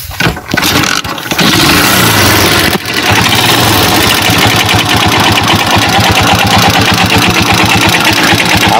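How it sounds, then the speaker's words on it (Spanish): A motorcycle engine starts with a brief sputter after its spark plug is adjusted, then settles into a steady, rhythmic idle, loud and close, with no talking. "si ustedes escuchan bien la moto, el mínimo parece estar bien"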